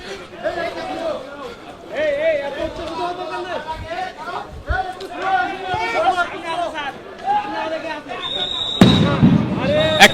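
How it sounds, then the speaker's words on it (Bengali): At a police crackdown on street protesters, a crowd chatters and shouts under the voice of a news reporter until a single sharp, loud blast from a sound grenade bursts out near the end. "একের পর এক সাউন্ড গ্রেনেড"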